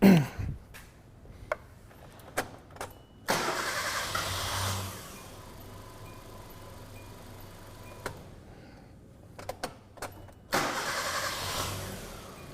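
Car with an intermittent stumble and rough running cranks repeatedly with clicks and pauses, then a long cranking spell finally catches and it starts and runs roughly.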